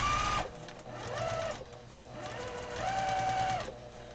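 A sewing machine stitching quilting lines across a pillow top, loud close whirring runs in two bursts with a brief pause between, the motor pitch rising and falling as it speeds and slows.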